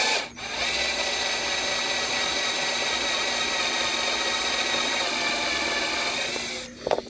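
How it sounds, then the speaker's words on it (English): A power drill whines steadily and loudly for several seconds, drilling out a metal rivet on a toy die-cast car, then stops, followed by a few brief clicks. "try to keep the drill bit perpendicular to the car"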